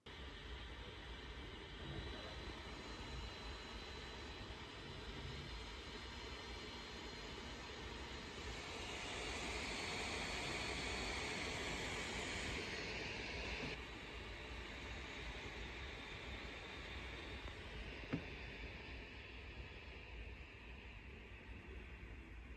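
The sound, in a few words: Tuxedo Aura 15 Gen2 laptop fan at full load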